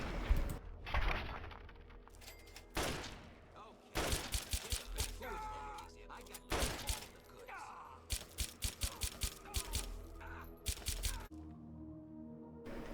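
Sharp, loud gunshots from a modded pistol in Fallout 3, fired in scattered single shots and quick bursts of several rapid cracks, each with a brief echoing tail, mixed with other game sounds.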